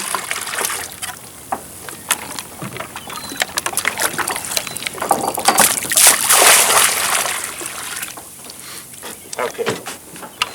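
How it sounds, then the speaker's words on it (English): Water splashing and sloshing as a sample bottle dips into a shallow stream, a run of close, uneven splashes and trickles that builds to a louder gush before easing off, with someone talking intermittently. "I want to minimize the splash like I didn't do the first time."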